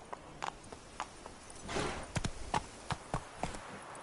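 Roach, the horse in The Witcher 3: Wild Hunt, thuds along in rhythmic hoofbeats, sharp clip-clop strikes with a brief louder whoosh midway, close and clear with no talking.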